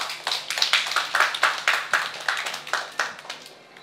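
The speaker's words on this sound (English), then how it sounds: "Give her a round of applause" Scattered hand clapping from a small audience welcoming a young student public speaker at a shopping mall stage event, distinct individual claps in an uneven rhythm that thin out and fade toward the end.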